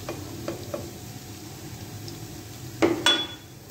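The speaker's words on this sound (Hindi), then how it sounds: "ऑयल हमारा गर्म हो गया है, इसमें हम डालेंगे चॉप किया हुआ लहसुन" Chopped garlic dropped into hot oil, cooking for masala macaroni, makes a low, quiet sizzle, with a few light utensil taps and then two louder metallic clinks near the end.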